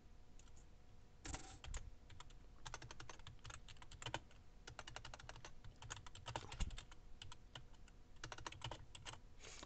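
Someone types steadily on a computer keyboard, with clusters of quick key clicks separated by short gaps over nearly ten seconds, heard up close and fairly quiet.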